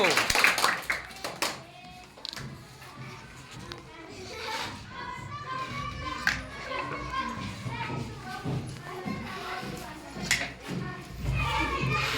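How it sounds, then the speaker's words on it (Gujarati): Clapping rings out during a children's game of blowing up balloons and lifting cups, scattered sharp claps mixed with excited kids' voices and an adult talking over the lively, noisy room. "જોરદાર તાળીઓના ગડગડાટથી ચાલુ રાખો."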